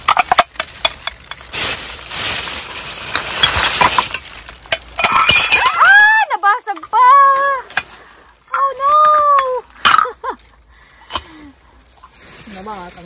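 Glass breaks among discarded items while dumpster diving in Japan, a loud crash and scattering shatter, followed by excited voices talking and exclaiming nearby.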